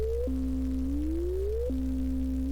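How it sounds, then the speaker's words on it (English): A pure synthesizer tone from an Elektron Digitone, LFO-modulated, glides slowly upward, then drops abruptly and climbs again, a smooth wavering sci-fi sound over a steady low hum. "And when I play a note, you're going to hear this."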